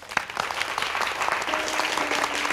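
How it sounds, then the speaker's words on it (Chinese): Applause breaks out at a workplace welcome for a new police partnership, a steady patter of clapping from a small group of colleagues indoors, continuous across the moment with a faint tonal hum beneath. "鼓掌。"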